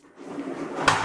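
A storage drawer for a vacuum cleaner in a bathroom cabinet slides open with a soft rolling rumble, ending in a brief knock, quiet and close.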